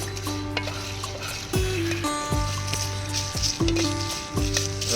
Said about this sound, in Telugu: ఎండుమిర్చి కూడా ఫ్రై అయిపోయింది